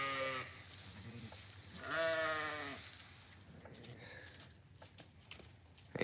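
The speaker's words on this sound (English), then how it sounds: "Yeah, and there's new goats in there." Goats bleating in a pen on a farm during an evening walk, several harmonic bleats in turn, one long and loud near the middle, with quieter animal calls and shuffling noise between them.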